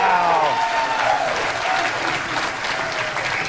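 A crowd cheers and applauds at a professional bowling tournament, the 2001 PBA Greater Nashville Open, a loud sustained roar of cheering and clapping with voices rising through it.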